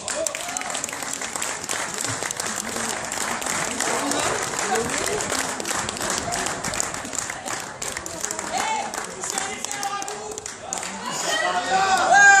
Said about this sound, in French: encore un tonnerre d'applaudissements, les compagnons de Massy